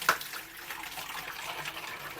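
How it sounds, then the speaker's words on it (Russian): Homemade white kvass pours gently from a jar into bottles, a soft, steady liquid trickle with a brief splash at the start, close and quiet with no talking. "В баночке, в бутылочке потихонечку льем."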